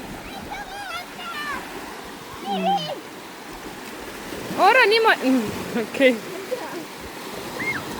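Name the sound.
sea waves at the beach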